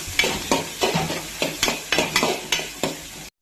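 Onions with cinnamon and cloves fry in oil while a utensil stirs them, giving about ten rhythmic scraping strokes over a continuous close sizzle.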